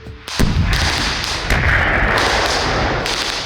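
Heavy booming blasts with dense low rumble, a sharp thud near the start and another around the middle, continuous loud roar throughout.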